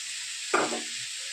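Large pieces of steamed cauliflower fry in oil in a pan with a soft, steady hiss. Partway through there is one brief clatter of stirring.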